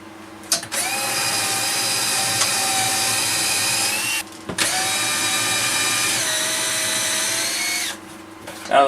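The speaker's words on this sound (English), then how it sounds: "Drill the holes for the grub screws." A power drill whines steadily in two long bursts, drilling holes for grub screws in a workshop, revving up and holding pitch, with a short pause between runs; close and loud.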